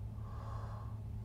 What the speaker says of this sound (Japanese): やばい、あくびばっか出る。